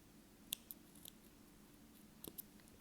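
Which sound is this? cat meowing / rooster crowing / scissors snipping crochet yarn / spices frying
scissors snipping crochet yarn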